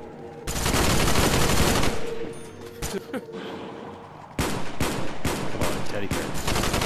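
Bursts of rapid gunfire ring out in a VR zombie shooter game, loud and close, with long sustained volleys broken by short pauses and a brief spoken line.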